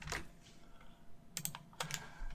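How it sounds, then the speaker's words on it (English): Computer keyboard keys clatter close by in a quiet room while an Excel formula is entered: a quick tap near the start, then a tight cluster of crisp clicks later, soft and alone without any talk. "I'm pressing the F4 key on my keyboard to achieve that"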